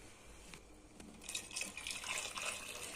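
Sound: tap water being poured into a pot

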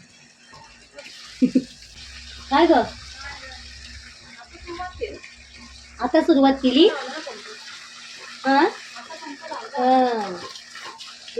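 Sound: water being poured onto plants in a garden

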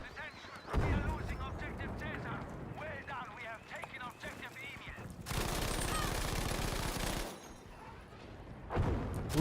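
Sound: M1922 gunfire in video game Battlefield 5

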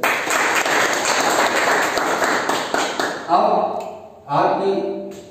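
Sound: audience applause

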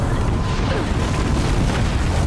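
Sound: gunfire and explosions in video game Horizon Zero Dawn

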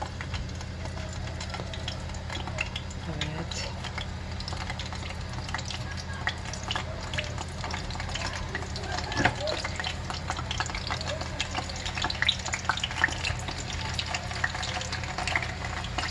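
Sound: meatballs frying in a pan

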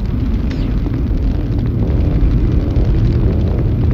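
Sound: explosion of planted explosives in video game C-12 Final Resistance

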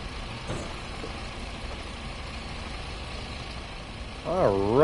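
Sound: Scania coach engine idling in Fernbus Simulator video game

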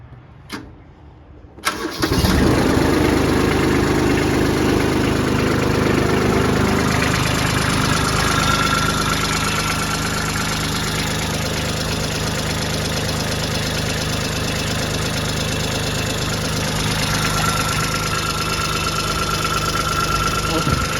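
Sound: Kubota B2140 tractor engine starting and idling

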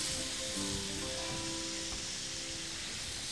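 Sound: frying red masala marinated squid pieces

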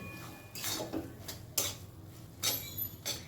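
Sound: stirring ginger and bottle gourd together in a pan

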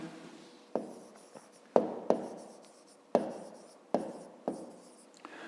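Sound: writing math on paper

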